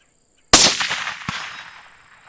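A single loud, close rifle shot at a 200-yard range with a UUQ 4-16x44 AOE scope, a sharp crack that decays over about a second and a half, with a faint distant report echoing back.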